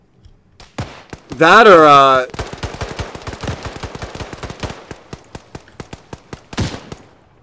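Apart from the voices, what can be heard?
enemy gunfire in the video game Arma 3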